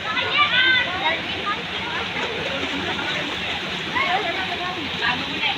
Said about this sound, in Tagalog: Yan ang Ugatong Falls